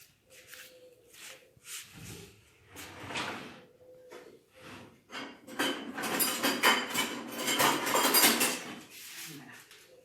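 Kitchen utensils clatter as a spatula is picked up from among them, with a series of sharp clacks and knocks that build into a busier, louder rattling of metal and hard objects near the end, close by with no speech.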